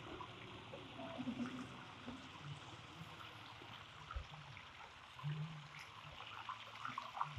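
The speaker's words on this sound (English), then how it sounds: "The waterfall effect." Moving water from a stream or small waterfall in an outdoor grassy setting makes a steady broadband rush, with occasional louder splashes and gurgles, fairly close and continuous throughout.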